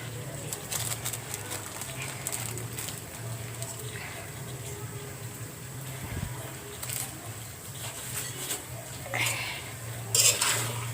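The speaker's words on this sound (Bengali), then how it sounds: "আমি এখন গোশগুলো একটু ভালো করে কষিয়ে নেব।" Spiced beef is stirred and fried in a pot, with a spoon scraping and clinking against the metal amid a low sizzle, while birds coo faintly in the background and a voice speaks at times.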